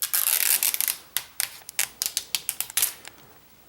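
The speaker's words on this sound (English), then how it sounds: "let's go ahead and start peeling off this plastic" Protective plastic peels off a new Samsung Galaxy Tab 3 7.0-inch 8GB tablet, giving a loud, close crinkling tear followed by a rapid series of sharp, crackling snaps.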